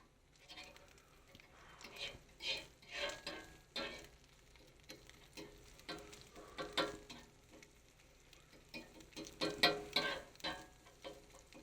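Eggs cook on a breakfast griddle with a soft sizzle under repeated scraping and tapping of a utensil, while people talk quietly nearby.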